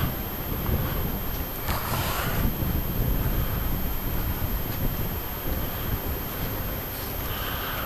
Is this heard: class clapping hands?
no